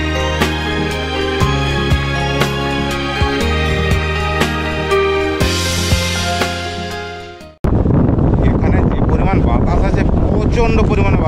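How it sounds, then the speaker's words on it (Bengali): Music plays for the first seven and a half seconds and then cuts off abruptly. A loud, rough roar of strong wind buffeting the microphone at the Kanyakumari seashore follows and continues steadily to the end. "প্রচণ্ড পরিমাণে বাতাস আছে, প্রচণ্ড পরিমাণে বাতাস।"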